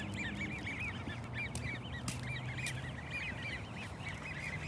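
Ducks or geese at a farm give repeated short nasal honks and quacks in a steady, fairly faint stream over a constant low background hum, with no speech.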